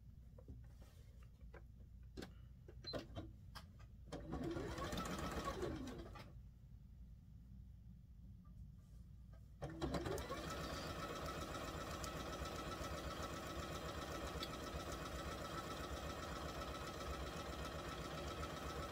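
A sewing machine stitches quilt block fabric from jellyroll strips, starting with scattered clicks and a brief run, then settling into a steady, fast mechanical hum of continuous stitching.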